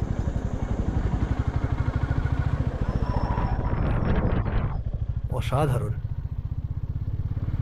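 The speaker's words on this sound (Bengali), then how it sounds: "এই সিল্ক রুটের ওপর দিয়ে নিজের বাইক চালিয়ে যাচ্ছি" A motorcycle is ridden along the Silk Route in Sikkim between Nathula and Zuluk, its close, steady engine thumping in a fast regular rhythm, with a brief clatter and a short spoken exclamation over it near the end.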